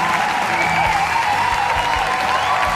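A crowd applauds steadily and loudly, with dense, continuous clapping and no pauses from start to finish.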